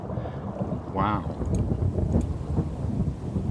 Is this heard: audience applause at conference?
no